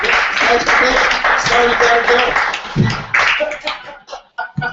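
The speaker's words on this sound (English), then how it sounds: "let's give a nice Wordplay Cafe round of applause for Wanda" A café audience claps and applauds for a performer named Wanda at a Wordplay Cafe show, a dense round of clapping up close that tapers off into scattered claps while a voice speaks briefly over it.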